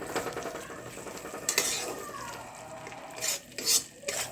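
Masala for chicken chana sautéed in oil in a pan: scraping stirs of a utensil over a soft continuous sizzle, with a few sharper metallic scrapes near the end, close and without speech.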